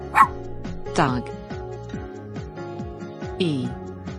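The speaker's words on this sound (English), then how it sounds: "Dog." A dog barks and yips a few times, sharp and close, spaced across a few seconds over steady background music.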